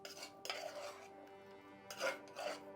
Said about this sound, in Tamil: இந்த மாதிரி லைட்டாக கிளறி விட்டுட்டு இப்போ நம்ம அதுக்குள்ளே சேர்த்துக்கலாம்.